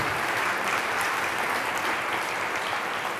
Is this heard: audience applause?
yes